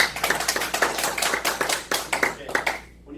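A small audience claps hands in a lecture hall, a steady run of sharp, close overlapping claps that fades out at the end.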